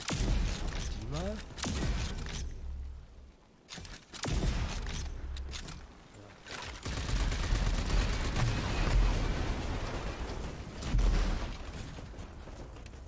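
Explosions and gunfire burst out in a Rage 2 shooter game, several loud sharp blasts with mechanical clanks and debris between them, and a steady rumble of combat underneath.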